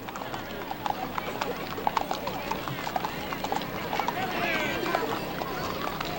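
Horses ridden by Shriners clip-clop along a parade route at Mule Day in Columbia, Tennessee, a steady run of hoof strikes on pavement amid crowd noise, with people talking over it.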